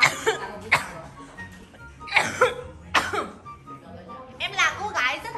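A woman coughs and clears her throat in several loud, separate bursts spread across a few seconds, close to the listener, mixed with bits of laughter-like vocal noise.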